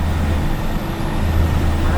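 Engine of a non-AC seater bus on a long road trip, a steady low drone close by as it overtakes another bus, with road noise all around and no pauses.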